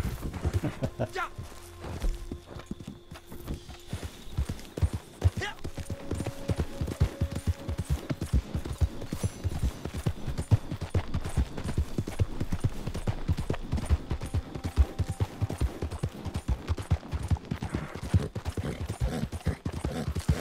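Horse hooves clip-clop steadily throughout a Red Dead Online game session, loud and rhythmic in a continuous walking gait that keeps up the whole time.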